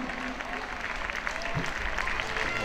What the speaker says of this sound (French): Et on applaudit la future gagnante.